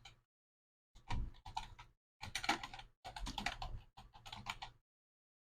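Close, clear tapping on a computer keyboard while filling in an Excel spreadsheet, coming in several quick bursts of keystrokes separated by short silences, with no voices.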